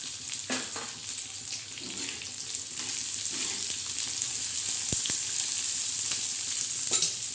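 Onion dropped into hot oil with garlic and curry leaves, frying in a pan for a Bombay duck fry dish: a steady bright sizzle runs throughout, with occasional stirring scrapes and one sharp tap near the middle.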